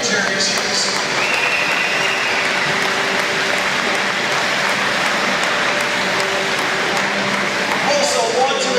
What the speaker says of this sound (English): Ladies and gentlemen, a huge round of applause for our dignitaries here this evening.